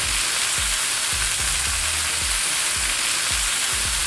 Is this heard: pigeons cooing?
no